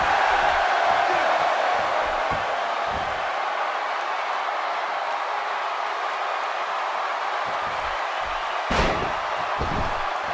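Crowd in the WWE 2K17 wrestling video game, a Royal Rumble match on PS4, keeps up a loud, steady roar of cheering throughout, with a brief sharp slam or thud near the end.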